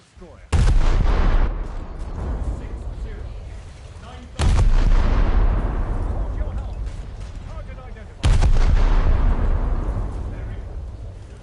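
Tank guns fire in War Thunder, three heavy booming shots spaced roughly four seconds apart, each a sharp loud blast trailing off into a long rumbling decay.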